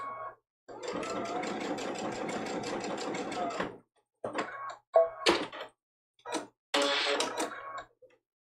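A sewing machine runs a back-and-forth blanket stitch along the edge of a quilted mug rug, a steady rhythmic whir for several seconds, then short starts and stops in bursts.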